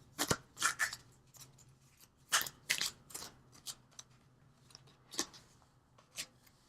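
Universal Love cards drawn from a deck during a tarot reading, soft close riffling and slapping card sounds in short scattered bursts with quiet gaps between.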